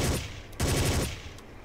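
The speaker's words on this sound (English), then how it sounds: "Let's use automatic fire." Automatic gunfire rattles in the video game Ghost Recon, two loud dense bursts of rapid shots back to back, close and heavy.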